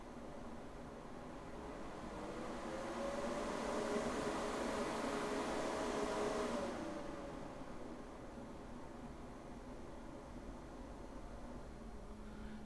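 A powerful computer cooling fan spins at around 5,000 RPM, its steady broadband whoosh swelling louder for a few seconds before settling back to a constant, moderately loud hum with no one speaking.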